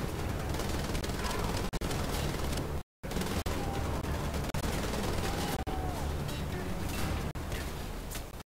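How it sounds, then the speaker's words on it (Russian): Dense, rapid machine-gun fire in Wolfenstein: The Old Blood rattles almost without pause, with a few short breaks, a loud continuous barrage. "Не зря я пулемет прихватил."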